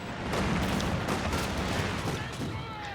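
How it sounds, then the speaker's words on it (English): Mortar fire in Company of Heroes 2, a steady mix of thudding blasts and crackling gunfire that carries on throughout, with a voice faintly under the din. "the mortar's now going down"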